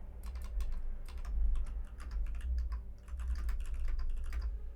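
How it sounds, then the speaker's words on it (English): Computer keyboard typing, a steady run of quick, close key clicks in irregular bursts over a low background hum, with no voices. "I hear typing. That's me That's typing."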